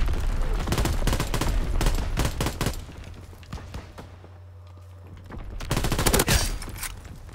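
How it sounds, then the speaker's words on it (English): Gunfire from a WWII-era shooter match in Call of Duty: WWII, with a shotgun among the weapons: bursts of loud, sharp shots and rattling volleys, a quieter lull in the middle, then another heavy cluster of blasts. "Oh, no, it's a shotgun."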